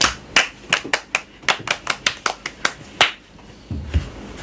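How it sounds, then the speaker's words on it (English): Children clapping for a child in a radio studio, a loose, uneven run of about a dozen close, sharp claps that thin out and stop, with no talking. "Let's clap for him."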